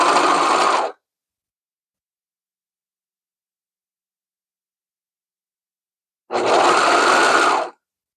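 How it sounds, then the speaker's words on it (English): Sewing machine stitching stretchy baby leggings fabric, two loud bursts of running at the start and end with a long silent gap between. "So I'm actually going to record this part sewing so that you can sort of see what I mean."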